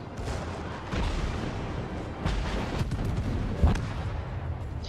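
The guns of the Japanese warship Myogi fire in a naval video game as a series of deep, heavy booms. They roll over a dense, continuous rumble of battle noise, with no voices.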